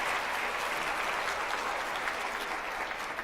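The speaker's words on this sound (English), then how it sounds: "give them a round of applause" A room full of summit attendees claps steadily for store team members from Colorado Springs, an even wash of applause with no voices over it.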